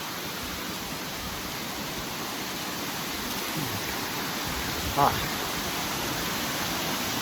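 A waterfall roars up close in dense broadband noise, with someone standing knee-deep in the falling water. The rush stays steady and loud from start to finish, with one brief splash near the end.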